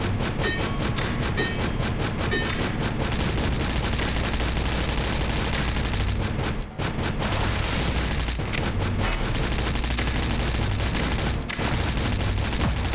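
Dense, continuous sci-fi gunfire from the co-op shooter game Astroswarm, rapid volleys and booming impacts packed wall to wall with only one brief dropout midway.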